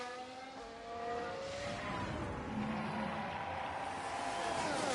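Two Mercedes Formula 1 cars in the F1 Manager 23 racing game at the Bahrain Grand Prix, a sustained high engine whine with rising and falling pitch sweeps as the cars pass, loud and continuous.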